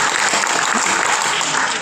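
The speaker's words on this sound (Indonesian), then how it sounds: "tentu kita memberikan sekali lagi aplaus untuk Romo Yus." Applause from a crowd gathered at a Catholic wedding ceremony for ten couples in Jakarta, a dense steady clapping that fills the whole moment without a break.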